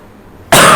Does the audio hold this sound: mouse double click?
no